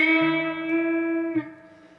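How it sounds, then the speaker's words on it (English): A single sustained electric guitar note bent up a full step with the ring finger, then shaken with vibrato at the top, with a clean effected tone, a second pick attack and a slowly fading ring. "you're going to push your ring finger up a full step and then play a vibrato at the top of that bend"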